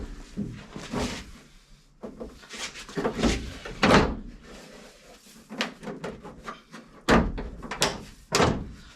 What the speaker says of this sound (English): let me get the bumper on here